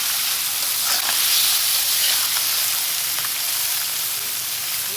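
Shrimp frying with onion, green chili and five-spice greens in a hot pan makes a loud, steady hiss of sizzling oil with faint crackles and occasional stirring, close up and continuous without speech.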